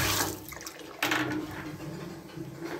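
Water runs steadily from a faucet during a pressure check on replaced galvanized water pipes, a continuous close hiss with a brief surge partway through and no talk.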